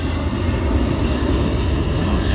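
A military jet makes a slow-speed pass at a Marine Corps air show with its landing gear down, a steady, loud, close roar of engine noise that holds throughout with no voices.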